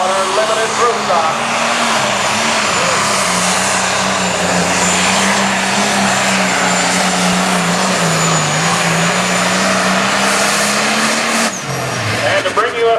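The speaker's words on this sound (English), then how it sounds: "here comes Brandon Coons, just another buck on our limited pro stock" A limited pro stock pulling tractor roars loudly and steadily at a tractor pull in Rock Valley, Iowa, its engine drone wavering slightly before a brief dip near the end.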